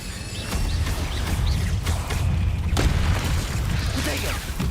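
Incendio fire spell cast in Hogwarts Legacy, a rumbling whooshing burst of flame over a steady low roar, with a sharper crack midway and a voice speaking over the effects.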